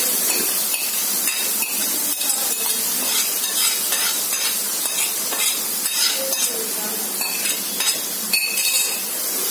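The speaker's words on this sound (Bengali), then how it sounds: "এটা এখন ভালো করে কষাতে হবে, ভালো করে মিক্সড করে নিব" Onions and roast masala for chicken roast fry in a pan while a utensil stirs them, with frequent scraping and clinking strokes over a constant close sizzle.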